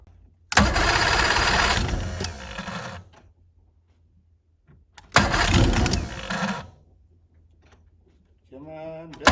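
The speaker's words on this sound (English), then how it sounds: "I'm just gonna crank on a little more, see if this fuel's any good." A two-stroke outboard boat engine cranks without starting in two separate bursts of about two and a half seconds each, with quiet between them and a brief voice at the end.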